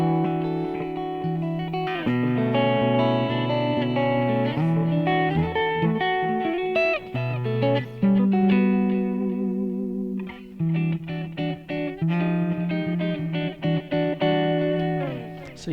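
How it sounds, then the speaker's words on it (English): Electric guitar on the clean channel of an amp, a continuous strummed and picked passage with some ambience, steady and fairly loud, no voices over it. "So let me put it on the clean channel for you."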